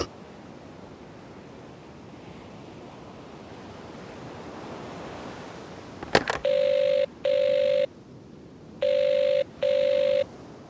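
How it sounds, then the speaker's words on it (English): Telephone ringing in a 1940 London setting: four distinct ring bursts in an even pattern, two close pairs, following a loud click, over a steady wash of background noise, with no talk. "Phone isn't much good if no one will answer it."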